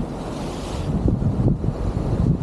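Steady wind roars at sea alongside broadband wave wash, with low rumbling surges swelling and falling throughout, in rainy weather.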